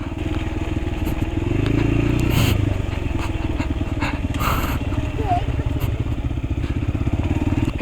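A trail bike rumbles steadily over potholed dirt road, engine droning close throughout with occasional knocks and rattles from the rough surface.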